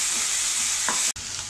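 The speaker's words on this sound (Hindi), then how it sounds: "प्याज को हमें बहुत ज़्यादा नहीं भूनना है, ओनली हम इसे 1 मिनट से भी कम समय के लिए भूनेंगे" Chopped onions sizzle in a pan over a high flame, a loud continuous frying hiss with a short stirring scrape, then a brief cutout before the sizzle resumes.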